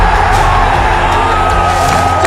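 A large rugby league crowd at Leichhardt Oval roars in a loud, continuous wash of cheering and shouting, dense and sustained throughout.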